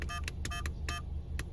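A dash cam with three cameras emits a quick series of short electronic menu beeps, soft and close, in an uneven rhythm of about eight tones over a faint steady background hum.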